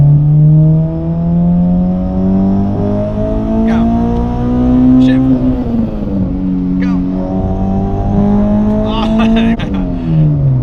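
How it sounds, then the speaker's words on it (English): A Honda Integra Type R engine revs hard in second gear under VTEC, a loud, close, rising drone heard from inside the car with a brief dip partway through, while people talk and cheer over it. "he's gonna rip second gear VTEC"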